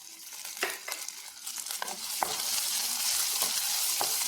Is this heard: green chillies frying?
yes